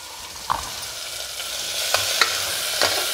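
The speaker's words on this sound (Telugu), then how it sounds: "వీటన్నిటిని కూడా 1 నిమిషం ఫ్రై చేసుకోవాలి." Onion, tomato, carrot, curry leaves and coriander fry in hot oil for kitchari, a steady sizzle running throughout with a few sharp stirring scrapes and clinks of a spoon against the pan.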